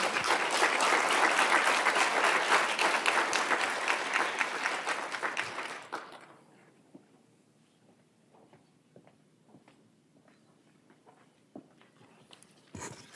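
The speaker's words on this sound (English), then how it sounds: "I'd like everyone to give a round of applause for our inductees" Audience applause for honor society inductees at an induction ceremony, a loud sustained burst of clapping for about six seconds that then stops abruptly, leaving scattered faint claps and room noise.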